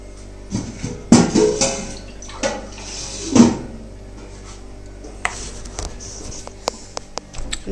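Water splashes and gurgles as it is drawn into a glass, with bursts of sloshing and a few drips in a quiet room.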